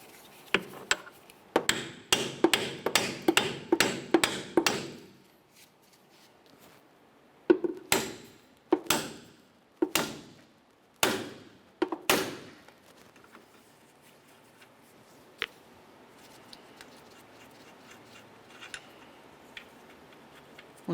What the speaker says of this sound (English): Continue with an 18mm socket and a hammer.